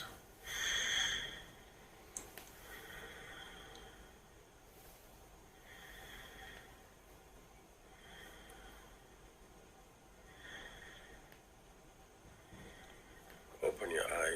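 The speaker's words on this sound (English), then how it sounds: "Breathe in and out 3 times." A person breathing slowly in and out, three or four soft, airy breaths spaced a few seconds apart, quiet and close, with a brief sharper sniff at the start and a faint voice near the end.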